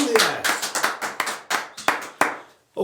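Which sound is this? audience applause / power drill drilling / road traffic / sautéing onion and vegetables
audience applause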